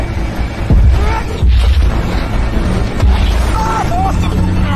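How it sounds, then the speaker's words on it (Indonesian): A tank cannon in a film fires with deep booming blasts, several heavy thumps spread across the moment, loud and close under a narrator speaking throughout. "menghindari tembakan 2 meriam berkat pengetahuan mendalamnya terhadap sebuah tank tempur"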